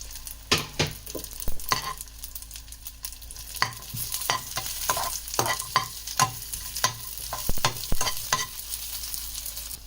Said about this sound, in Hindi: हमने दोबारा इसमें घी डाला है और ये हम किशमिश फ्राई करेंगे